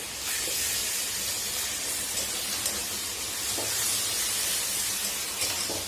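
Ginger garlic paste sizzles in a hot pan as it is fried for a prawn malai curry, a steady, close hiss of frying throughout with a few small pops and crackles on top.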